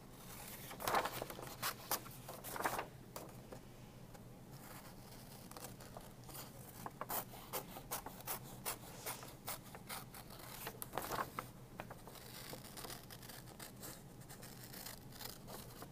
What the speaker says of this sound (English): cut around the edge. I don't want to see any bubble cutting.